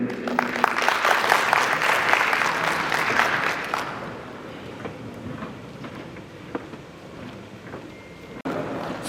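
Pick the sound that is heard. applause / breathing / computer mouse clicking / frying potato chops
applause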